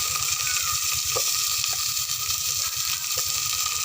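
Garlic and onion fry in a pan, a dense, loud, continuous sizzle and hiss heard up close with faint stirring bumps and no talk.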